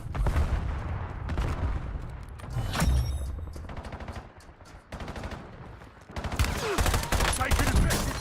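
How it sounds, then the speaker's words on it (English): Video game gunfire with rapid automatic bursts and fusillades, loud and close, broken by a brief quieter lull before heavy firing resumes. "Taking effective fire"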